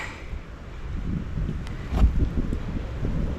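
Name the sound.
wind blowing outdoors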